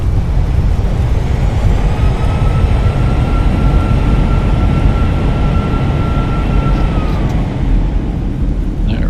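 An Airbus A320 (Fenix) in full reverse thrust on landing in Microsoft Flight Simulator, a loud, continuous broadband roar with a faint steady whine above it, holding steady before easing slightly near the end.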